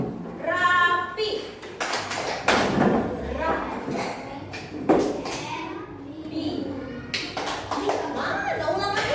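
Children in a classroom clap in a patterned chant-clap routine, bursts of claps and thumps mixed with young voices speaking and chanting, lively and close.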